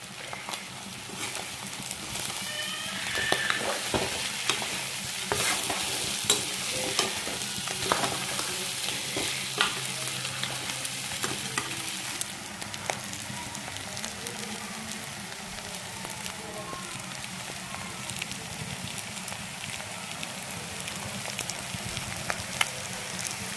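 Chicken dry fry being stir-fried in a pan with black pepper (jaluk) in a home kitchen: a steady, close sizzle and crackle with occasional stirring scrapes, running continuously with no talking.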